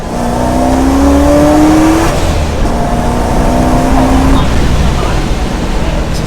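A 900hp supercharged car accelerates hard, its engine note rising steadily in pitch, easing off, then climbing again, loud and continuous from inside the cabin.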